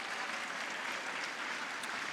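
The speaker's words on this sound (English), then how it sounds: "So that applause you hear is because we do have another final." Steady, broad applause rises from spectators at a curling national, a sustained wash of clapping heard from some distance without a break.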